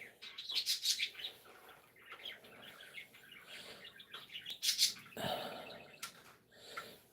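Pet birds chirp and tweet indoors in quick bright bursts, some louder and nearer, with quieter pauses between calls and no talking.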